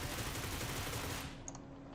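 A Groza assault rifle fires on full auto in PUBG, a rapid stream of shots for over a second before it cuts off, followed by a couple of faint clicks.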